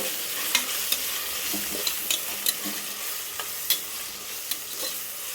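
Tomatoes and onions sizzle in a pan under a steady hiss, with repeated scraping strokes of a spoon stirring through them every second or so.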